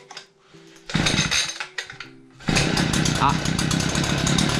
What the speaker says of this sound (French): Donc là j'ai un problème, mon moteur ne veut pas démarrer.